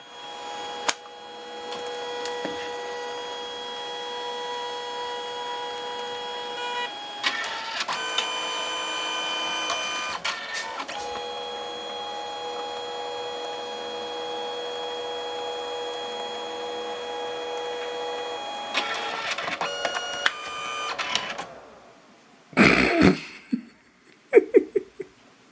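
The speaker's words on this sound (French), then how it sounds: "Je suis en train d'imprimer la photo selfie avec la petite imprimante qu'on a achetée" A small photo printer prints a selfie, giving a steady mechanical whir with tonal hum, shifting pitch several times as the paper feeds, followed by a few louder clicks and thumps near the end.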